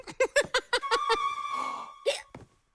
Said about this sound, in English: have you got the hiccups?